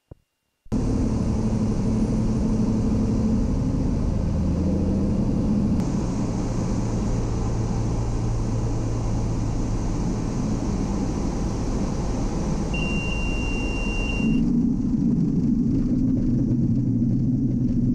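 A light aircraft in a flight simulator game touches down on an outback dirt strip, a steady loud engine drone and rumble throughout that shifts in tone near the end.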